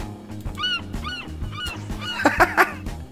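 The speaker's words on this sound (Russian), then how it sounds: "Чайка летает." A seagull in the Garry's Mod video game gives a series of squawking, honk-like cries, about five rapid calls spaced across a few seconds, loud and close over busy game noise.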